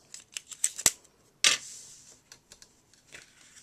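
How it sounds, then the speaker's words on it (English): Tape is torn and pressed behind ribbon on a handmade card. There are close, crisp crackles and a sharp ripping snap, then softer rustles, with no voices. "Just going to add some tape behind it"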